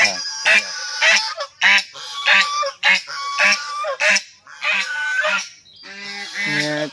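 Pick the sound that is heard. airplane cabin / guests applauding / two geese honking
two geese honking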